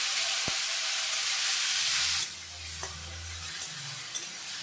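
Onions and tomatoes hit hot oil seasoned with black cumin, a loud close sizzle that flares at first, then settles into a quieter, steady frying hiss with a faint knock of a utensil.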